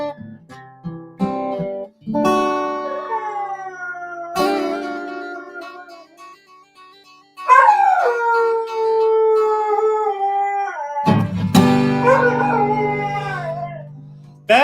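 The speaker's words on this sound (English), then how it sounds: "That is one fine singing dog." A dog howls along to a sung rendition of "Oh! Susanna," long wavering howls rising and falling in pitch across several phrases, loud and close, with gaps between bursts.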